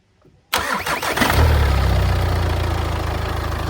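A car with a freshly repaired starter motor cranks briefly after a faint click, then catches and settles into a steady, loud, close idle that continues to the end.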